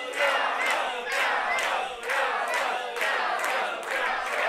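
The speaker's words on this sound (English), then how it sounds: "And this crowd firmly behind Carlos" A wrestling crowd at a gauntlet match roars in rhythmic surging waves of shouting and cheering, swelling roughly every second, loud and close with no commentary over it.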